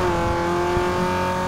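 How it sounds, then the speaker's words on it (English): Car engine in the racing game Need For Speed Underground 2, held at a steady high rev with strong harmonic whine, loud and close throughout with no talk. "my car can't use all of its turbo power because the engine doesn't get to the right revs"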